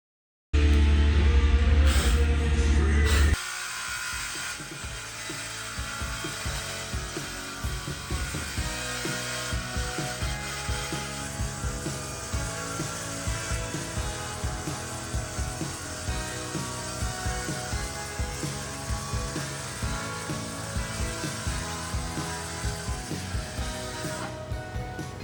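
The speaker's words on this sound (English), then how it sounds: "I was cutting pieces of plywood to make my seat box" A power saw cuts plywood pieces for a camper van seat box. A brief loud start gives way to a long, steady whirring cut with rhythmic texture, heard close by with no speech.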